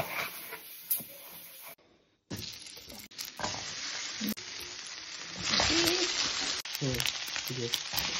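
Meat sautéing in a pan, a close sizzling hiss broken by stirring scrapes and clatter, with a short silent gap and louder frying toward the end.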